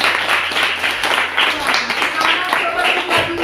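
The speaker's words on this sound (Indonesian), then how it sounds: "Tepuk tangan dulu, yuk." Children and a teacher clapping together in a grade 6 classroom, a steady crackle of hand claps with voices talking over it.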